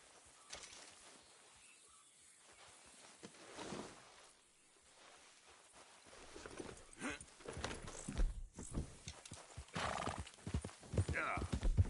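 A horse's hooves clip-clop in the Western video game Red Dead Redemption 2. The hoofbeats start quiet and grow louder and denser, with a whinny along the way and a voice speaking briefly.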